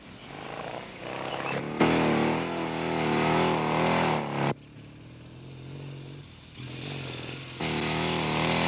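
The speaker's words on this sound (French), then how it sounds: "Emballe le moteur et reste en seconde." A car engine revs hard while held in second gear, loud and close, surging in long sustained bursts with brief drops in between as the throttle eases and picks up again.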